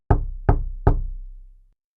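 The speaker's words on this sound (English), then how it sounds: "the big bad wolf came to the house and knocked." Three firm knocks on a wooden door, evenly spaced and close, each thud ringing out briefly before fading into silence.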